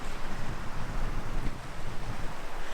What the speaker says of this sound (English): This is an island and it's incredible windy and cold here.